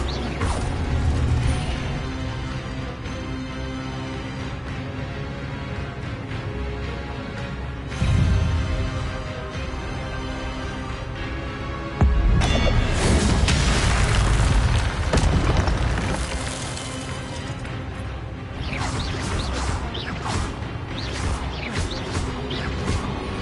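Spell effects in Hogwarts Legacy gameplay: heavy booming impacts, mechanical rumbles and crackling bursts layered over a continuous dense game soundscape, with louder surges as spells land.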